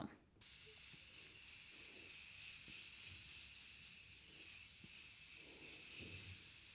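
A soft continuous hiss of spray misting, steady and fairly quiet, with faint rustling and small handling sounds underneath.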